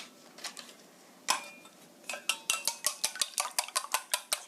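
Eggs seasoned with salt are beaten in a bowl for an omelette, a quiet scrape of stirring giving way to a steady run of quick, sharp clinks of the utensil against the bowl, close and fairly loud.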